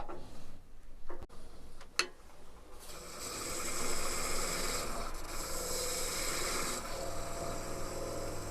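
Steady, soft rubbing of 180-grit sandpaper against a wood-turned shell spinning on a lathe, continuous after a few light ticks at the start.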